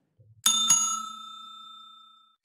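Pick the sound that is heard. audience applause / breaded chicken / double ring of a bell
double ring of a bell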